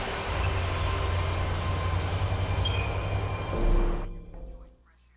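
A train in the video game Lightning Returns: Final Fantasy XIII rumbles along steadily with rolling noise and brief metallic squeals, then slows and fades to near silence at the end.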